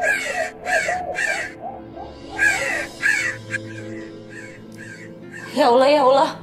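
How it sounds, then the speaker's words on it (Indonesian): A crow caws loudly several times, harsh repeated calls near the listener, while a person speaks over and between them. "Ada suara burung gagak lagi,"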